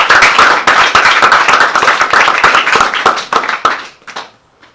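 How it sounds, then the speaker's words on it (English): An audience gives a loud round of applause at a talk, with dense, fast clapping from many hands that holds steady and then thins out and fades to near silence at the end. "So give him a big round of applause."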